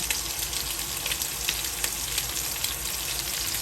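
Lamb chops sizzle in a frying pan with pan drippings, a steady close hiss of frying with small crackling pops throughout.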